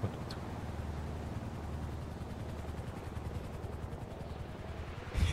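A helicopter drones low and steady in a GTA roleplay game, a continuous rotor rumble with rapid pulsing beats and a sharp burst at the start and end, with no voices.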